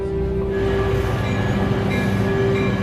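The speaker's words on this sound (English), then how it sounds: "The passenger train is pulling into Hinton." A passenger train rolls into Hinton station with a loud, steady rumble of wheels on track and a sustained whining tone running throughout.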